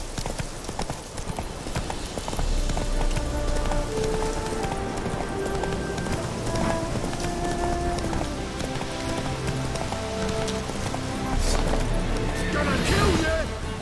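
Roach, a horse in the video game The Witcher 3, gallops with a steady, continuous clip-clop of hooves under rain and game ambience, loud and close throughout with no one speaking.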